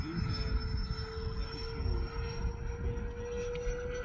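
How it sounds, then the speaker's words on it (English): A Freewing A-10 RC jet with an E-flite electric ducted fan makes a half-throttle pass, a sustained whining hum with a steady high tone over a rumbling, wind-buffeted roar. "And the sound is pretty scale at half throttle."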